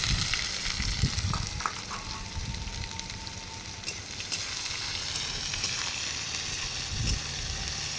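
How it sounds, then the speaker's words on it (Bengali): Onions frying in hot oil with bay leaf in a pan, a dense continuous sizzle and crackle at close range with a few stirring knocks, no talking. "এর মধ্যে তেলে রাখা পেঁয়াজগুলো দিয়ে ভেজে নেব"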